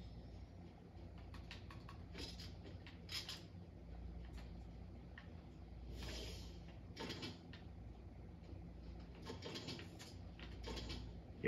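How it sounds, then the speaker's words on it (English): Mechanical creaking and clunking from a door opening in the Indiana Jones video game, recurring in several bursts over a steady low rumble of game ambience. "Hear a door."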